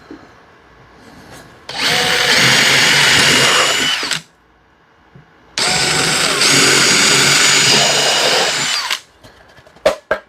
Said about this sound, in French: on va se pré-percer 2 petits trous